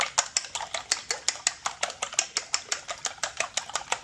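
Eggs beaten with chopsticks in a bowl for a Spanish tortilla, a rapid, steady run of sharp clicking taps at close range with no talking.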